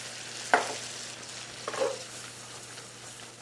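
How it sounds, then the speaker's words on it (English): Shrimp étouffée sauce with heavy cream simmering and sizzling in a pan, with a couple of stirring scrapes and a louder clank at the end, steady and close. "we're going to let that just simmer away for a second"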